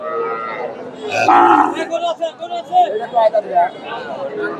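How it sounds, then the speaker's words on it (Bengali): Sahiwal cows, heifer calves and bull calves low and moo at a bustling cattle market, one loud close call rising over steady crowd chatter and more mooing. "এই যে গাভী বাচ্চাটা, ষাঁড় বাচ্চা, শাহিওয়াল বাচ্চা আর শাহিওয়াল গাভী।"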